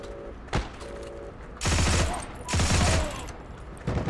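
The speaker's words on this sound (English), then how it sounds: "Alright, so burst firing feels okay." Two short bursts from an M1/M2 rifle in Heroes and Generals, each a quick rattle of several close, loud shots, with single sharp reports before and after and faint game tones between them.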